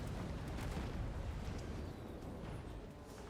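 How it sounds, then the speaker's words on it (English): Deep, bassy cannon fire from a battle in Total War: Warhammer 3, a dense continuous rumble of booming blasts running throughout at steady loudness. "And the cannon, I do like this. They have got a real bassy sound."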